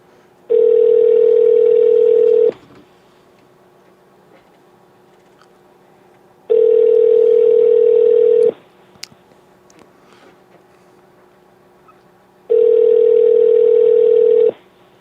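Ringback tone on an outgoing telephone call: three loud, steady buzzing rings about two seconds each, separated by roughly four-second silences, clear and alone.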